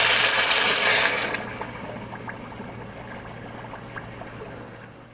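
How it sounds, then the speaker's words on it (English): A hot metal casting flask from lost wax jewelry casting plunged into a bucket of water, giving a loud bubbling hiss that fades within a second or two into softer trickling and popping. "The flask is air-cooled for 10 minutes before being submerged in a bucket of water"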